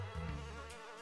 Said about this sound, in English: Two buzzing fleas.